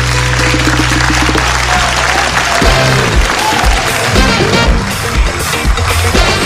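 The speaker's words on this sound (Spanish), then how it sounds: "¡Aplausos!" Audience applause breaks out after a live Spanish-language song performance on a television show, a dense, loud clapping texture that fills the whole stretch as the final music notes fade beneath it.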